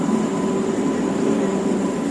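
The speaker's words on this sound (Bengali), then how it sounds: "ট্রেন, ট্রেন না গুডস যাচ্ছে" A goods train passing through a station at night, a steady loud rumbling drone with tonal hum, close and continuous throughout.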